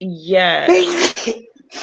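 A single close, voiced sneeze bursts out, followed by a short breathy exhale.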